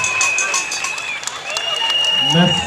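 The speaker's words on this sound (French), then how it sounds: "Merci d'applaudir pour la communauté Mancagne." An audience claps at a parish cultural evening and patronal feast in Kolda, dense sustained applause under amplified speech and a high sustained tone.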